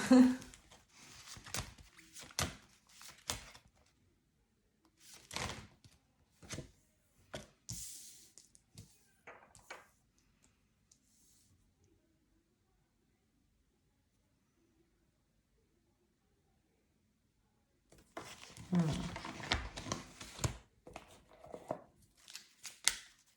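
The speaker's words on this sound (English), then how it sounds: "let's just keep on shuffling some cards" A deck of tarot cards being shuffled in bursts of riffling and sliding card sounds, close and crisp, with a long quiet gap in the middle before shuffling resumes.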